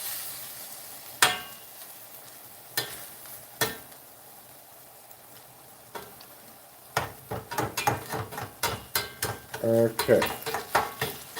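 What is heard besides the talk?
garlic being spread and sizzling in a pan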